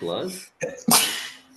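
A single sharp sneeze bursts out right after a brief spoken word, close to the microphone.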